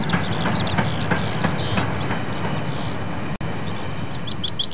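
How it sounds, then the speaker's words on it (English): A quarry train runs along a Derbyshire limestone-country railway line, its rhythmic clickety-clack of wheels over rail joints repeating steadily and loud, with a continuous rolling roar. "Today, only quarry trains ply what's left of the line that runs through Wydale."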